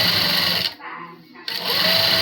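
A sewing machine hums loudly as it stitches falls along the edge of a saree, pausing briefly in the middle before running on again, while a voice talks over it.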